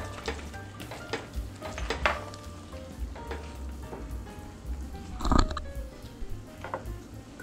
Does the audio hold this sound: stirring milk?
yes